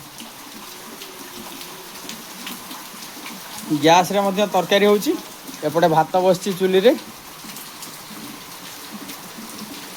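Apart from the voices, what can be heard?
rain falling around an outdoor cooking stove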